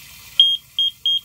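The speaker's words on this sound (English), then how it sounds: "if this thing touches water, it sets off an alarm" A water leak alarm near a basement sump pump and pond setup, sounding three loud, close high-pitched double beeps in a regular rhythm over quiet background.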